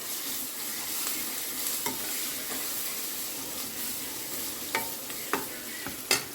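Onions browning in hot oil in a home kitchen pan, a steady close sizzle and crackle with occasional clinks and scrapes of a stirring spoon, louder toward the end.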